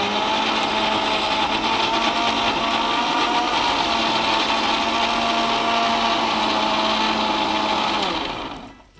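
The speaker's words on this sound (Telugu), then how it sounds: "సో దీన్ని మనం మెత్తగా ఒకసారి మిక్సీ చేసుకుందాం." Mixer grinder blending green chilli paste for a mutton dish, a loud steady motor whine running continuously for about eight seconds before cutting off and winding down.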